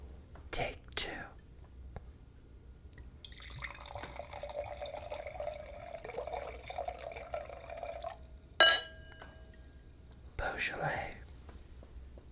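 Beaujolais wine trickles into a glass in one quiet, close pour lasting a few seconds. Soft whispery breaths come before it, and a brief sharp clink and faint murmurs follow.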